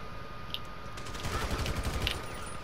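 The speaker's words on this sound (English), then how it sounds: "Who's shooting?" Rapid bursts of gunfire crackle in GTA 5, a fairly faint fusillade of automatic shots that grows denser toward the middle.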